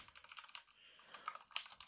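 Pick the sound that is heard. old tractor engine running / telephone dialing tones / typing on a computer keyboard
typing on a computer keyboard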